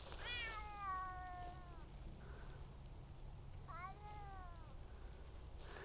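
Two male cats outdoors among garden pots yowl at each other in long, wavering meows, one drawn-out cry followed by a second after a pause, fairly close over low background noise.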